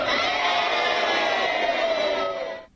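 Crowd of schoolchildren shouting and cheering together at the school of the rescued boys' football team, a dense sustained roar that stays loud throughout and then cuts off abruptly at the end.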